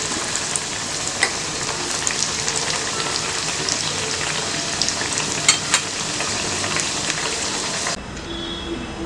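Bottle gourd fry sizzles steadily in a pan, a dense crackling hiss with occasional sharper pops, close and fairly quiet, cutting off near the end.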